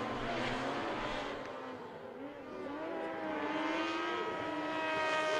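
Sidecar racing outfit lapping the Sachsenring track at the FIM Sidecar World Championship, its engine revving loudly with rising and falling pitch through gear changes and corners, close and continuous.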